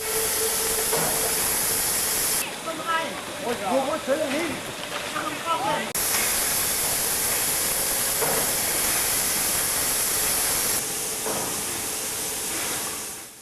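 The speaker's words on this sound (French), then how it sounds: "Du grand art de la vapeur à voie métrique." Metre-gauge steam locomotive on the Harz railway in Germany, turning around for the return run, gives off a loud, steady rush of hissing steam that fills the whole clip, with voices briefly heard partway through.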